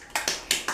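Children clap their hands in class, four quick separate claps close together in under a second.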